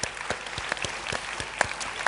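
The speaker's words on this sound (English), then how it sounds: "They're craving to have your claps," Audience clapping at a school annual day event, a steady crowd applause with sharp individual claps standing out throughout, moderately loud and without speech.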